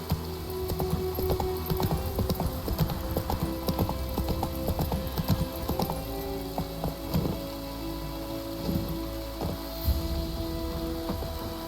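A horse's hooves clip-clop in a steady, rapid gallop in The Witcher 3, over rain pattering on the ground, continuous throughout.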